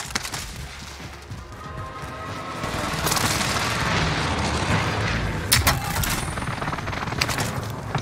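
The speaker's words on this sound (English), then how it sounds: "Enemy precision airstrike." Precision airstrike explosions in Call of Duty Warzone Rebirth roll in as a dense barrage of booming blasts and crackling impacts, building louder partway through over continuous battlefield rumble.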